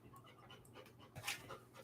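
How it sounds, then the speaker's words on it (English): A Labradoodle pants softly and steadily with faint whimpers, quiet and close, along with small rustling movements and one brief sharper sound near the middle. "He's my dog. He's a Labradoodle."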